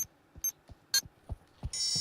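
A planted bomb in the video game Pavlov beeps in short bright pulses at an irregular pace, ending in a sustained tone, with soft thuds between the beeps.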